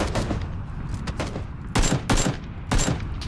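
Rapid bursts of gunfire in the battle royale game PUBG, loud and close, with several dense clusters of shots and louder volleys toward the end, no talk.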